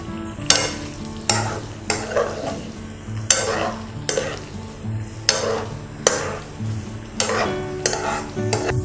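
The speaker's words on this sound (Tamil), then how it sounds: "நம்ம அதை கிளறி விட்டுக்கலாம்." Vegetable Manchurian being stirred in a hot pan, with regular scraping strokes about once a second over a continuous sizzle, close and fairly loud with no voices.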